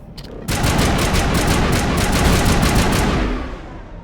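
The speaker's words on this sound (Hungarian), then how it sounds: "hát én elkezdem lövöldözni" Rapid automatic gunfire in the Mass Effect video game, a dense sustained burst of shots lasting about three seconds before tapering off.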